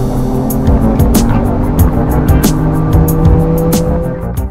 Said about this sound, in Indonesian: ada suara artificial seakan-akan raungan mesin V gitu yang ngebuat kita lebih terpacu lagi adrenalinnya